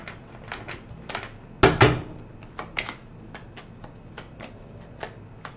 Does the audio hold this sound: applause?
no